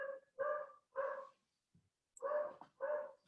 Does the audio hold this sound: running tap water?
no